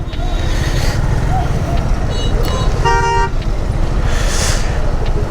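Motorcycles and other vehicles honk in a Bangladeshi traffic jam. Short horn toots cut through a constant close engine rumble and road noise, with one clear multi-toned horn blast standing out midway.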